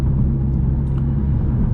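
A tuned plug-in hybrid Audi A3 e-tron, rated around 320 hp, driving on the German autobahn, gives a steady low engine and road rumble that holds constant and fairly close throughout.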